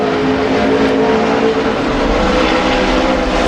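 NASCAR Sprint Cup car on a 2010 qualifying lap at Dover, a steady loud engine drone held at high revs throughout, with no let-up or gear change.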